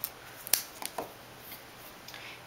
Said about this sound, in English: So usually when I get to the end, I just kind of cut it at an angle